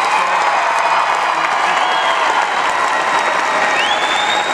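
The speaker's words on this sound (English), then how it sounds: "Give Chris a big round of applause." A large concert crowd at Winterjam 2011 claps steadily with a dense, sustained roar of applause and scattered cheers.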